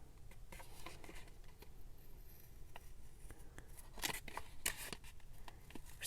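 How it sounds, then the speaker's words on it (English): Scissors snip through plastic while tags are made for a junk journal. Faint, close cutting sounds come as a few brief crisp snips over soft background rustling. "For some reason, it's really satisfying to cut through plastic."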